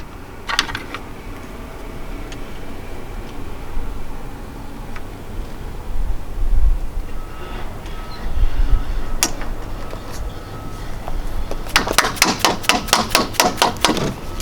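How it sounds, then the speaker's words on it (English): A dead blow hammer taps a retractable screen door part into place during a double door installation, giving scattered knocks at first and then a quick, close run of about ten sharp taps near the end. "you just tap it in with the dead blow hammer"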